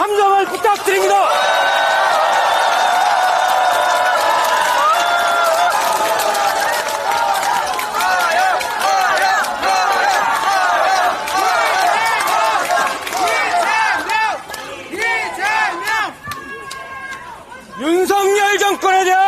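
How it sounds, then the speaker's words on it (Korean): Loud, dense crowd noise at a Korean political party election rally in Chuncheon, with cheering, whooping and clapping over a bed of voices for most of the stretch, thinning briefly before swelling again near the end. "뜨거운 박수와 함성을 부탁드립니다"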